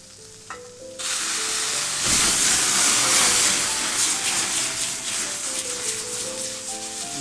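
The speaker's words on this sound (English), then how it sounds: "Just cook the pork inside." Pork hits a hot pan and breaks into loud, steady sizzling and frying that continues close up, with stirring scrapes and faint music underneath, in a restaurant kitchen with Caribbean cooking.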